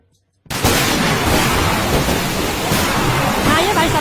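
Heavy rain pours down outside in a cartoon, starting abruptly after a moment of silence and then holding as a loud, dense, continuous roar.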